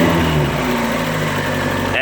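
A Mazda Miata MX-5 engine, NA or NB with a 1.6 or 1.8 litre motor, idles steadily with a low hum and light vibration while the throttle cable is worked by hand, heard close up for a couple of seconds.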